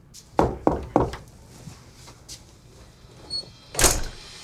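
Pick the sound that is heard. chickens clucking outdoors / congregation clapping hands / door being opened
door being opened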